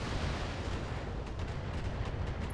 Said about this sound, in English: he's going to fire on our quick draw